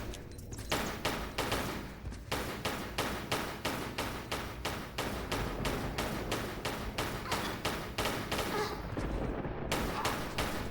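Lara firing at a bat in the Tomb Raider video game, a long run of evenly spaced pistol shots in a steady rapid rhythm, close and sharp, with a brief pause near the start and another near the end.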